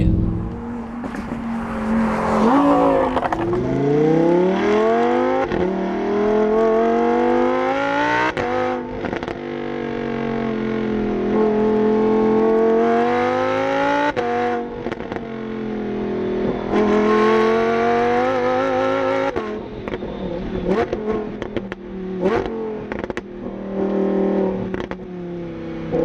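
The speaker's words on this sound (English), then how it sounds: "Lambos sound how most cars sound after you put a aftermarket exhaust on" A stock Lamborghini Huracán on a highway revs hard through repeated rising engine sweeps and gear changes, loud and close throughout with a brief roaring surge partway through.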